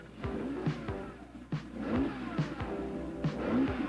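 A Ferrari sports car from an old animated show drives past with a loud, steady engine drone, punctuated by several sharp bursts and gear-shift revs over about four seconds, with no talking.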